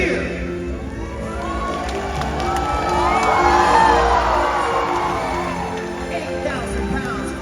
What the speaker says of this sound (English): give him a great big cheer!